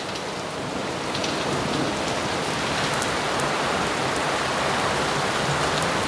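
Heavy rain pours steadily during a storm that recurs daily, a dense, loud hiss of drops on surfaces that builds slightly after the first second and holds without pause, with no voices.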